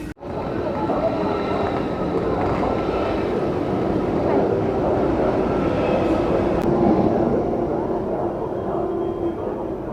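Steady loud rumble and rush of a Deutsche Bahn ICE high-speed train running at speed in Germany, continuous throughout with a faint whine above the roar and no voices.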